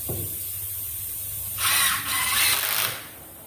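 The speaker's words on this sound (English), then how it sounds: "You set your top board up there. And you run your screws down through." A power drill drives screws down through the top board of a wooden horseshoeing stock, heard as a brief whirring burst after a quiet stretch, close and moderately loud.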